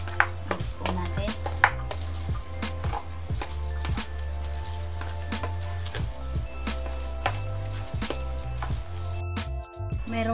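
Cassava batter is mixed with egg in a bowl, giving repeated wet scraping and tapping strokes in a steady rhythm, close up and moderately loud.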